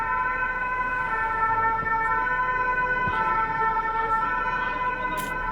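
A steady electronic police siren in Brussels wails continuously, loud and close, with traffic rumbling underneath.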